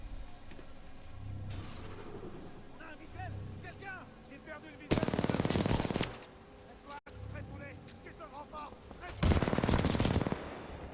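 Gunfire in the Titanfall 2 video game: two loud, dense bursts of automatic weapon fire about four seconds apart, set against game music, effects and a brief spoken voice.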